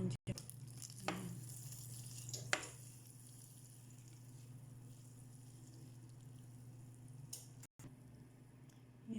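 Butter melts in a pan with a soft, steady sizzle over a low hum, faint and close, broken by a couple of brief clicks and knocks, with no talk.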